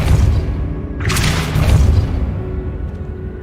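Depulso spell cast in the video game Hogwarts Legacy, a heavy booming blast with a bright burst of noise in the middle over a rumbling low background.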